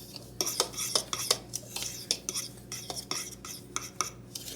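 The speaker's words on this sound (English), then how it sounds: "You just need to stir all this up, you guys." A spoon stirs an egg white mixture in a bowl, giving repeated sharp clinks and scrapes against the side in an irregular quick rhythm, close and clear with no talking.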